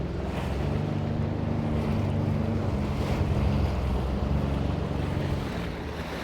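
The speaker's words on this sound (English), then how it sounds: "It's pretty windy on the other side of those rocks." Strong wind and rough, swelling sea surge steadily around a Sea-Doo Fish Pro personal watercraft offshore near rock jetties, a loud continuous roar of gusts and breaking water with no talking.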